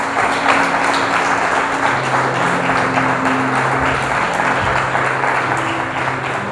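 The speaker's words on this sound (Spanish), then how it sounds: "Dale un fuerte aplauso al Señor." A church congregation applauding, a dense, loud, sustained wash of clapping that carries evenly throughout with a faint murmur of voices underneath.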